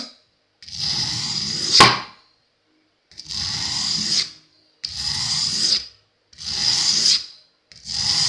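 Bimetal hunting broadhead blade drawn across a fine-grit sharpening stone in four or five separate rasping strokes, each about a second long with short pauses between, close and fairly quiet.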